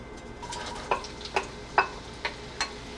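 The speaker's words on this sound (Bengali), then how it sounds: "তরকারি রান্না করার জন্য আমি পাতিলে তেল দিয়েছি অলমোস্ট 4 টেবিল স্পুনের মতো, এবং পেঁয়াজটা এখন আমি দিয়ে দিব" Onion dropped into about four tablespoons of hot oil in a cooking pot for a rohu fish curry, with a steady soft sizzle and several sharp crackling bursts and stirring clinks spaced roughly half a second apart, close by.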